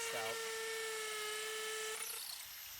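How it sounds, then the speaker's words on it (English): A power drill whines steadily at a high pitch, spinning up and holding for about two seconds before winding down, close by, boring into concrete. "I always back the drill out a little bit, let some of the dust out"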